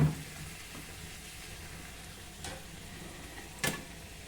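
Rice flour puris frying in hot oil give a soft, steady sizzle, quiet and close, with a couple of brief clicks and a splash-like crackle partway through.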